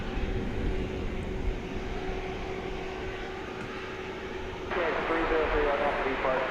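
Broad steady jet roar from an American Airlines Airbus A321 departing DFW Airport at night, rising in level near the end, with a voice talking over it.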